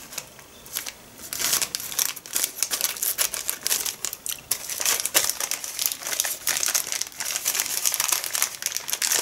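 A plastic packet of cocoa butter is crinkled and handled up close, giving a dense run of sharp rustling and crackling bursts that continues for several seconds with no talking.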